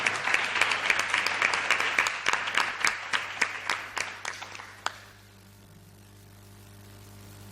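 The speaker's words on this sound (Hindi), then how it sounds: "यदि अनुभव है ताली बजा के प्रभु की महिमा करें।" Church congregation clapping in praise during a sermon: steady rhythmic applause from a crowd, loud and close, that stops abruptly after about five seconds, leaving a quiet room hum.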